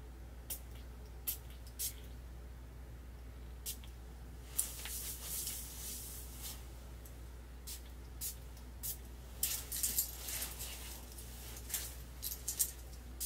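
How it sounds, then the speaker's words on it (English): Faint bursts of a spray bottle hissing, several quick squirts in irregular clusters over a quiet low hum. "But just know, I'm gonna spray a whole bunch."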